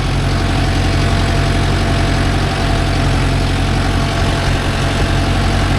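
Mahindra Yuvo Tech Plus 585 4WD shuttle-gear tractor engine idling in neutral, a loud, steady low diesel rumble with constant vibration and no break throughout.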